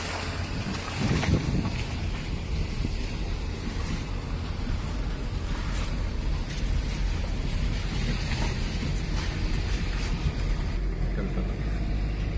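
Sea waves at the shore in Murudeshwar, a constant roar of surf mixed with heavy wind buffeting the microphone, loud and unbroken, with faint voices now and then underneath.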